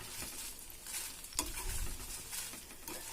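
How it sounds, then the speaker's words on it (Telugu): Dried red chillies frying in oil for gongura pickle produce a soft, quiet, steady sizzle with light stirring scrapes and patter, close and continuous. "ఇలా వేసి వీటిని మంచిగా 2 వైపులా ఫ్రై చేసుకోవాలండి ఎండుమిర్చిని."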